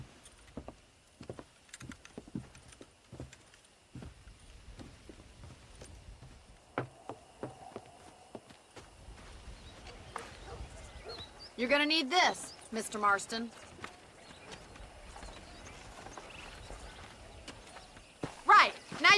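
Horse hooves clip-clop on a ranch in the Red Dead Redemption video game, a sparse, moderately close run of hoof falls with jangling tack, faint birds and crickets, and someone speaking briefly.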